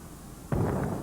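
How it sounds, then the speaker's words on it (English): A stun grenade goes off at a distance in a combat zone, one sharp muffled bang with a short rumbling tail, faint against the background. "That's the sound of a stun grenade."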